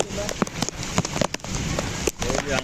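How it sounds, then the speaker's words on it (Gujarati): Steady rain patters on a surface at a market yard in Gondal, Gujarat, with scattered heavier drops, mixed with faint voices and movement in the background. "વરસાદ ચાલુ થઈ ગયો છે"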